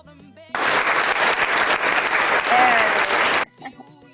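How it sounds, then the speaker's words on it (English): Burst of recorded applause played on cue at the end of a virtual spinal cord injury circuit training class, dense clapping starting abruptly, holding steady for about three seconds, then cutting off sharply. "Cue applause."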